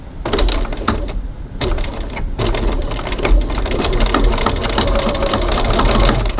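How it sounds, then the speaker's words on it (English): Sewing machine stitching a seam with a top stitch length of 3.2 on a zipper pocket, a loud close continuous rapid clatter with a short pause near the start. "And now we're going to go over to the sewing machine and stitch that seam."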